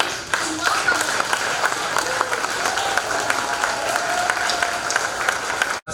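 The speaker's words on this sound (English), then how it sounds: "with thunderous applause and vigelegele, please join me in welcoming" Thunderous audience applause welcomes a speaker at an evening gathering in Minneapolis, a loud continuous roar of clapping from a large crowd that holds steady before cutting off abruptly at the end.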